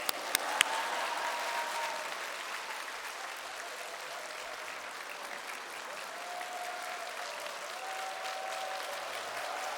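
A large congregation at a church anniversary revival service applauds steadily to welcome the guest pastor, a continuous, moderately distant roar of many hands, with a few sharp claps at the start.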